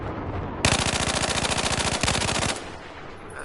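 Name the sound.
carbine rifle gunfire in video game Battlefield 4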